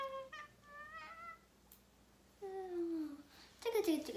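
A voice imitates a cat with a few high, wavering meows, then a longer drawn-out mew and a final squeal, close and fairly clear.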